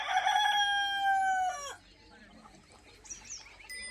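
A desi village rooster on a farm lets out one loud, drawn-out crow, then the yard settles into quieter scattered clucks and chirps from resting hens and chicks.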